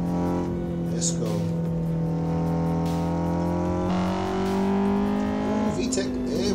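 Honda engine in the Assetto Corsa racing game on the Nordschleife, a sustained engine tone climbing in pitch as the VTEC kicks in, with a sharp jump in revs near the end, heard beneath someone talking.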